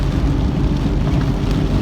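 Rain falls steadily at night, heard from inside a car as a dense low rumbling wash of drops, loud and continuous with no voices.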